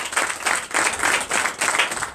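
Church congregation applauding at a Sunday worship service, steady dense clapping in a few swelling bursts, fairly close and filling the room, with no voices standing out.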